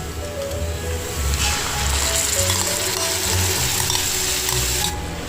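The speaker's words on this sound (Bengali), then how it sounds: "দেখুন এবার আমি এই দইয়ের মিশ্রণটা এর মধ্যে দিয়ে দেবো" Yogurt mixture poured into a pan of potatoes fried until reddish for a vegetarian aloo dum, raising a loud, steady, hissing sizzle that holds throughout with no voices.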